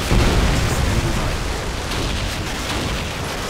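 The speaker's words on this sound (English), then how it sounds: "Friendly Predator missile inbound" A Predator missile explodes in Modern Warfare 2 during a Search and Destroy match, a loud low rumbling boom that stays dense and sustained, decaying only slightly across the few seconds.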